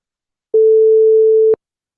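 A pure A note sine tone at 440 Hz sounds once, steady and clear for about a second, starting and stopping abruptly with tiny clicks, surrounded by silence.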